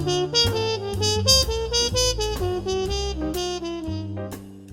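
Trumpet weaving chromatic enclosures around chord notes over a minor ii V i backing, a flowing run of bright, clear notes above sustained low chords, fading toward the close.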